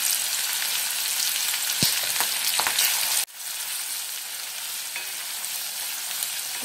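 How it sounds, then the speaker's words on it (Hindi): Chopped onion and curry leaves sizzle and fry steadily in a hot pan with cumin, a loud continuous hiss with a brief dip midway and faint stirring clicks. "बारीक कटा हुआ प्याज डालेंगे, और करी लीव्स भी डालेंगे।"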